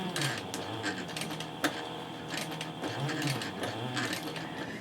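A sewing machine stitches the side gusset of a handbag into place, running in short steady bursts with brief pauses, close and fairly quiet.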